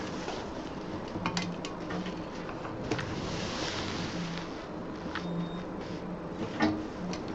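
A sewing machine stitches fabric along a marked line on a homemade college bag, running as a steady, close mechanical whir with a few faint clicks and no talking.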